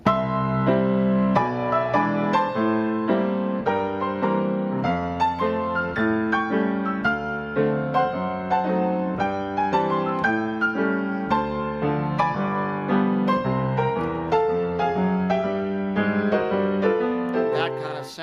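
Solo piano in a lively stride style, bouncing octave bass notes in the left hand under full chords and melody, played close and steady.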